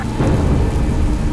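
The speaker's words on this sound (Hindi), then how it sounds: "ये वर्षा तो प्रकृति का ही रूप है" Heavy rain pours continuously with deep rolling thunder rumbling close and loud, a dense unbroken storm with no voices.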